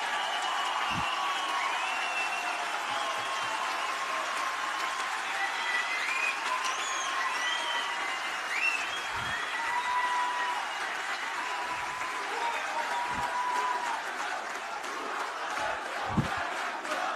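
A large crowd at a political freedom forum in Brazil breaks into sustained applause that runs unbroken for about seventeen seconds, with scattered shouts and whistles rising above the steady din.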